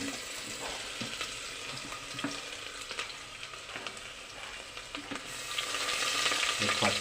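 Urad dal and chopped ginger fry in hot oil for masala dosa, a moderate continuous sizzle with light utensil taps, growing slightly louder near the end, no talking.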